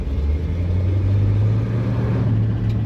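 A car rolls back out of a driveway, giving a smooth, even low engine hum and road rumble, close and continuous from start to finish.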